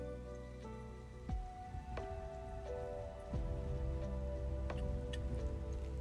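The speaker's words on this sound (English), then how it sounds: "Still raining." Steady rainfall in the online fantasy game Mortal Online 2, a soft continuous patter under a low droning hum with a few faint clicks and tones, no voices.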